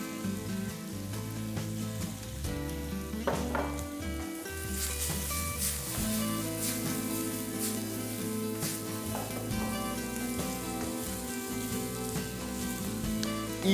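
Green pepper sautéing in a pan, a continuous crackling sizzle with dense popping, steady and close throughout.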